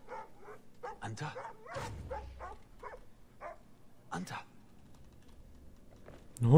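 In Assassin's Creed Origins, a dog yips and barks in short scattered bursts, mixed with a player's speech and keyboard typing.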